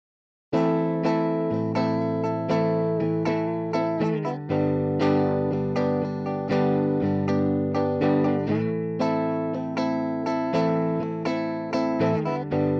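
Logic Pro Tape Delay with heavy flutter applied, set far higher than normal, to a steady tone and then a regular audio signal; a continuous, warbling, pitch-wavering layered sound with repeating delayed notes runs loud throughout.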